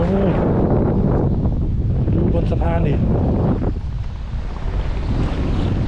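Strong wind buffets the microphone at the seaside by a pier, a loud steady rushing roar, while someone talks excitedly over it.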